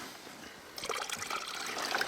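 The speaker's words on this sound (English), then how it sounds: "We got too much water, so let's pour a little bit of water out." Water is tipped out of a gold panning pan at a highbanker sluice. After a quiet start, a soft splashing pour begins and runs on as a steady trickling gush, close and fairly faint.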